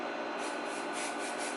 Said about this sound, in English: spray some texture spray on this side